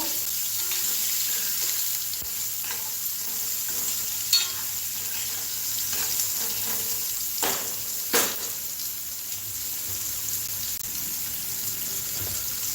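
Tomatoes frying for poha with potato: a continuous close sizzle in hot oil, broken by a few louder scraping and stirring knocks from the spoon, with no talking.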